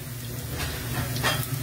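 Garlic frying in a pan, a steady close sizzle with faint crackles and a brief stir.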